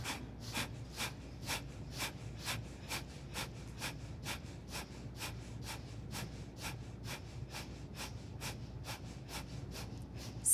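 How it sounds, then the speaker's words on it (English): Rapid Kapalabhati yoga breathing, sharp breaths pumped out through the nose in a steady fast rhythm of about two per second, close and clear over a low hum for the whole stretch. "pressing the breath in and out through the nose"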